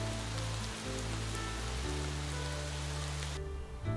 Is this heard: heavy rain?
yes